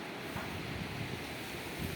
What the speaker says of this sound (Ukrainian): Вітер страшнючий, пече.